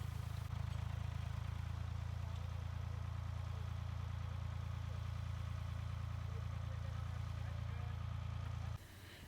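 A tractor closes up a planted potato row in a field. Its engine drones in a loud, steady, low rumble at close range, with a faint mechanical clatter, then drops abruptly in level just before the end.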